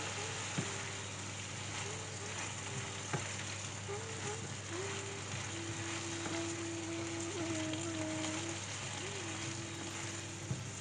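Salted mixed vegetables for a vegan bhaji sizzling steadily in a pan, a constant hiss beneath background hum with faint tonal squeaks.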